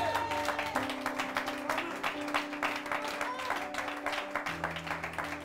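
A church congregation applauding and cheering in praise, sustained dense clapping under a preacher's French voice and music, loud and steady for several seconds.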